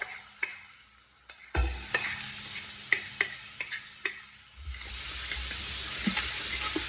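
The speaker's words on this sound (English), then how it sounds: "Now I'm going to add the onions, garlic, and thyme. And cook that up." Onions, garlic and thyme being stirred in a pressure cooker pot for beef short ribs, with scattered spoon knocks and scrapes over a soft sizzle that grows steadier and louder toward the end, close by and without talking.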